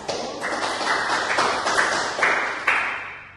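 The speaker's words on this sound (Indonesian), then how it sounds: "Tepuk tangan dulu untuk kelompok" A classroom audience claps for a student group after its presentation, a short burst of hand claps that swells and pulses in waves at moderate loudness before fading out.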